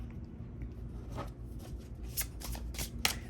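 Tarot cards being shuffled by hand at close range, a soft continuous riffle with several crisp flicks and snaps toward the end, quiet and alone without speech.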